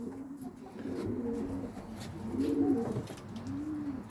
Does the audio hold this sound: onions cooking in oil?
no